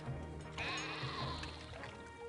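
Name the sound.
sheep bleating in a video game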